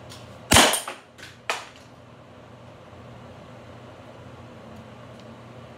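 A BB gun fires pellets at a target: one sharp, loud crack near the start, followed by a smaller second snap, then a quiet background hum.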